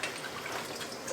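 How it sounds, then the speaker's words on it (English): Water runs and drips steadily while leaves for moin moin are rinsed, a continuous close splashing with no pauses. "And now I'm just rinsing to get rid of the dirt."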